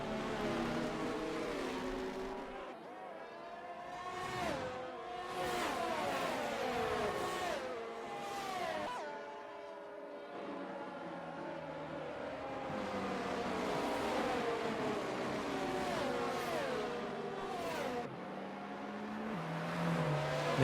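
Formula One race car engines in a racing video game, Saudi Arabia Grand Prix, whining and revving steadily throughout with repeated rising and falling gear-shift sweeps as several cars run together.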